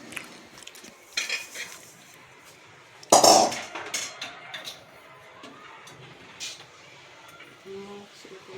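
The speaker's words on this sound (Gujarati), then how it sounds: "મમરા વઘારવાના।" Puffed rice being tempered in a pan, with close metallic clinks and stirring scrapes of a spoon against the pan in irregular bursts, one louder clatter in the middle, and faint voices in the background.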